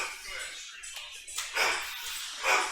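A dog barks a few times at a billiards match venue, the yelps fairly close over a noisy room with people talking and clattering in the background.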